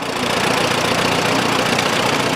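A small tractor engine runs steadily at a county fair tractor parade, a continuous close, fairly loud rumbling chug with no talk over it.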